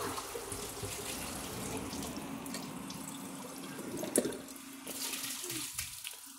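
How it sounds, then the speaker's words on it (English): Water pours steadily into a toilet bowl during a test comparing a Kohler Class 5 and a Toto Drake toilet, a continuous close splashing gush with a brief louder surge near the end. "I have to add more water to the bowl."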